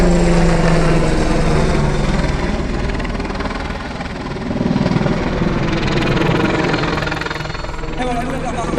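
A Tigre military helicopter loops at an air display, its rotor and turbine roar steady and loud throughout, swelling slightly midway with a faint rhythmic rotor chop.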